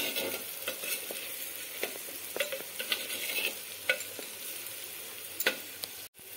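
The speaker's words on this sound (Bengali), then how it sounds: "এভাবে পেঁয়াজটাকেও আমি একটু ভেজে নেব।" Onion fries steadily in oil in a clay handi pot while making handi chicken, a continuous soft sizzle broken by occasional scrapes and stirring knocks, with no voices.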